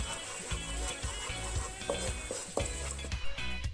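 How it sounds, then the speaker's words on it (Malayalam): Ground Schezwan paste frying in hot oil in a pan over a low flame, a soft steady sizzle broken by repeated low scraping knocks of a spoon stirring against the pan. "ശേഷം നമുക്കൊരു പാൻ അടുപ്പത്ത് വെച്ച് ഓയിൽ ഒഴിച്ച് ഓയിൽ ചൂടാകുമ്പോൾ ഈ പേസ്റ്റ് പോലെ അരച്ചത് നമുക്കിതിലേക്ക് ഇട്ട് കൊടുക്കാം"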